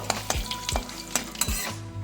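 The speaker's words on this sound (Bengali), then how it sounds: "একটু নেড়ে চেড়ে ভেজে নেবো" Whole cumin seeds, a bay leaf and two dried red chillies fry in hot oil with a steady sizzle, while a spoon stirs and scrapes the pan in several close, sharp strokes.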